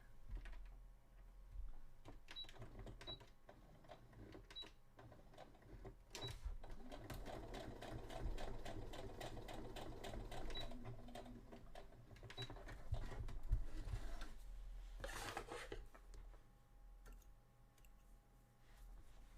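A sewing machine stitches a seam on a cosplay costume for a Sisters of Battle outfit, running in steady rapid bursts with sharp clicks at the start and a louder run near the end, no talk.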